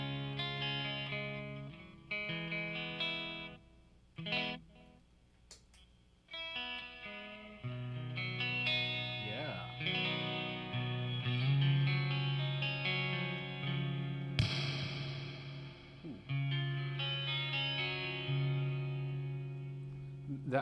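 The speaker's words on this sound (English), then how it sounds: "That was my chorus pedal. That's an old" Electric guitar played through an old Electro-Harmonix Neo Clone chorus pedal into a Vox MV50 Rock amp, shimmering sustained chords and picked notes with a wavering, doubled chorus tone, moderately quiet and heard alone.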